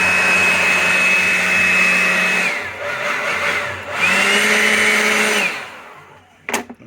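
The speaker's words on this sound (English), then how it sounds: "Alright, so let's get the leaf blower." A leaf blower blasts dust out of an old Blaupunkt Florenz tube radio in two long, loud steady whines separated by a brief pause, ending with a sharp knock.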